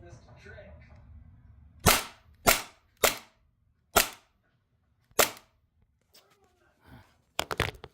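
An airsoft Hi-Capa pistol with a CL Project piston fires on HPA, six sharp, loud cracks spaced about a second apart, then a tight double shot at the end, with quiet room noise between.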